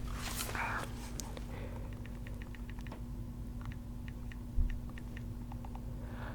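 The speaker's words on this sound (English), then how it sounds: "just you guys can hear, like, typing noises, I guess." Soft, fast typing on a keyboard in a quiet room: short scattered clicks run steadily through the clip at low level over a constant hum, with one slightly louder tap near the end.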